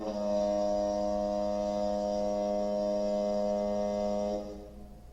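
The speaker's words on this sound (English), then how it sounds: "And there goes the foghorn." A foghorn gives one long, loud, steady tonal blast that holds for about four seconds and then cuts off, leaving a faint low hum behind.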